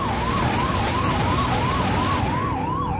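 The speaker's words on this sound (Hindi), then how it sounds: "जहां एक एम्बुलेंस बर्फबारी के चलते मुश्किल से निकल पा रही है।" Ambulance siren wailing steadily up and down, loud and close, from a vehicle struggling through heavy snowfall on a hill road in Bhalesa, Doda district; the high hiss cuts off near the end while the wail continues alone.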